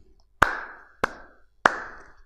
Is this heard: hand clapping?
yes